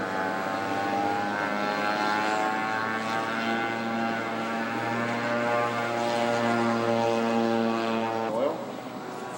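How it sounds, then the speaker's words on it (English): Radio-controlled scale model propeller airplane flies with a continuous buzzing drone that holds steady and then shifts pitch near the end, heard at moderate distance. "Controlling his aircraft with a JR radio."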